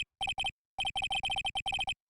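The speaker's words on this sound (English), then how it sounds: "All of a sudden, the phone began to ring." Bursts of a bright electronic telephone ringtone from the video game Phoenix Wright: Ace Attorney Trilogy, repeating in quick rhythmic pulses with short gaps, clear and isolated with no talking.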